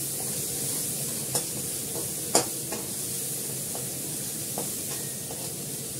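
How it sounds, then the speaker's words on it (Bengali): Fenugreek seeds sizzle steadily as a tempering in hot oil, added to a fried onion and garlic paste for a Bengali potato curry, with a few sharp stirring clicks and pops over a continuous hiss. "এটা কষে গেলে একটু মেথি ফোড়ন দেবো।"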